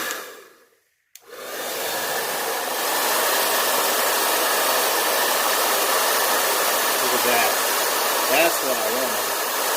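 A multi-speed hair dryer blows on an epoxy tumbler, starting after a brief silence and settling into a loud, steady rushing whoosh, with a short spoken remark near the end.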